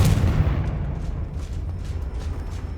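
The Confringo explosive spell goes off in the Hogwarts Legacy video game as a loud, booming blast that trails into a rumbling, crackling decay.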